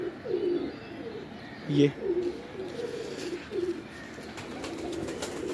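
A full-feathered pigeon coos softly in a series of low, throaty calls, fairly close, with someone speaking faintly between them.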